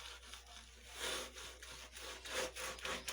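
Rhythmic scrubbing of a gas stove top during kitchen cleaning, done without water, gives a steady back-and-forth rubbing rasp in repeated strokes, close and fairly loud, with no talking.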